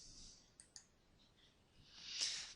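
Two quick, crisp computer mouse left clicks in close succession, faint and near, followed by a soft rising rustle.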